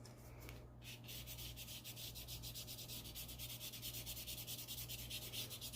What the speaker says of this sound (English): We're just rubbing